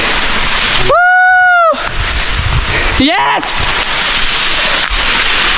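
Water rushing and splashing at Damtua waterfall in Alikadam, Bandarban, a loud continuous roar of falling water close by, broken by a couple of short sweeping whistle-like tones.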